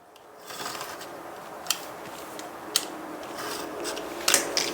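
A peel-and-stick mosaic tile sheet for a kitchen backsplash is cut along a marked line, quiet rasping snips with a few sharp clicks scattered across a soft background hiss.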